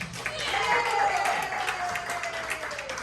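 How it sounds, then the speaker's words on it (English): A studio audience applauding as a comedian is brought on at a talk show, a full crowd of clapping and some cheering, fairly loud and sustained, with a sustained tone running beneath the clapping. "Everybody give a big round of applause for Sean Kay."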